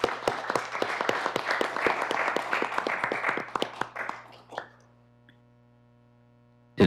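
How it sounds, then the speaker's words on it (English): Attendees at a city plan commission meeting give a round of applause, individual claps clearly audible and fairly close, fading out after about four and a half seconds into a quiet room hum. "just a round of applause for her time and service"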